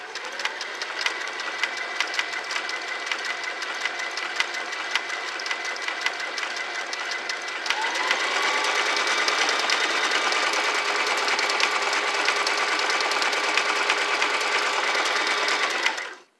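A Singer Simple 3337 sewing machine runs continuously, stitching a selected pattern with a close, loud mechanical whir that shifts to a fuller, faster drone about halfway through before stopping abruptly at the end.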